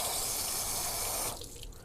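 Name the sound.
water running off a coated vehicle trim piece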